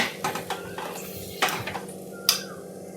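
A utensil clinks and scrapes against a pan while spiced potato filling with chili powder is stirred for masala dosa, a few sharp metallic taps spaced irregularly over quieter scraping.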